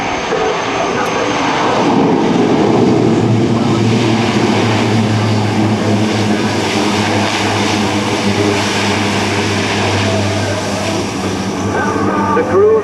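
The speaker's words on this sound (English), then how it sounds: "listen for the engines to go into full reverse and stop right here in front of show" Loud C-130J propeller engines roar in full reverse while landing at an airshow, a deep, sustained drone that swells early and holds steady, with faint voices in the background.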